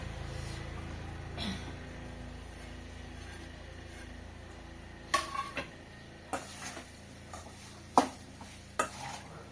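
Okra (bhindi) fries in a pan, a low quiet sizzle under a series of sharp spatula scrapes and clinks against the pan in the latter half.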